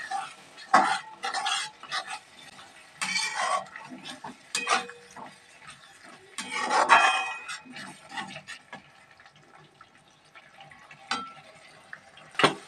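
A spoon stirs whisked sour yogurt into a spice masala in a pan for a jackfruit and prawn curry, making intermittent scraping and soft knocking strokes in uneven bursts, close and moderately loud.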